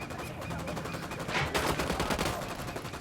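Automatic gunfire in the tactical shooter Ghost Recon Wildlands rattles in rapid bursts, with a louder, denser volley midway through and continuous shots over a noisy background.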